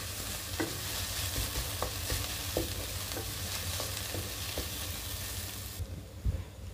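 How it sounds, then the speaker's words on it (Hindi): Chopped onions sizzle steadily in a hot pan, frying with a dense crackle while a utensil scrapes and stirs them in a series of clear, close taps; the sizzle softens near the end. "प्याज को हम 2 से 3 मिनट तक इसको भूनेंगे अच्छे से, जब तक प्याज ब्राउन हो जाए।"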